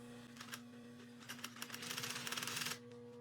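A sewing machine stitches piping into an upholstery seam, a close, steady mechanical whir with rapid needle clatter that builds toward the end and then stops abruptly.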